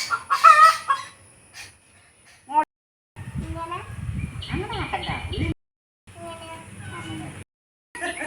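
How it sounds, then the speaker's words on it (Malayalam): Domestic chickens clucking and crowing in a home setting, a hen's repeated clucks and a rooster's call coming in bursts separated by brief silences, with people talking nearby. "എന്തിനാ കൺമണിയാ കോഴി കരയണേ?"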